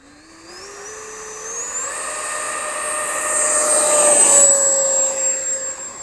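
A Diamond-type model airplane on an 8S high-voltage electric setup takes off, its motor whine rising steadily in pitch and growing louder over several seconds, with no talking.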